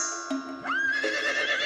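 Horse neighing in the vampire survival game V Rising, a loud whinny with a rising, wavering pitch that holds to the end, heard close and alone without talk.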